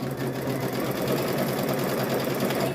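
A sewing machine stitches fabric strips together for a rope bowl, running steadily at speed with a fast, even mechanical whir close by.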